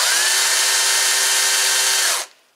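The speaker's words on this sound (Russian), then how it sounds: "нажму кнопочку запуска, можете посмотреть и послушать, с каким уровнем шума работает эта пила." A Stihl 160T cordless battery chainsaw runs at a steady loud whine for about two seconds, then quickly spins down and falls quiet.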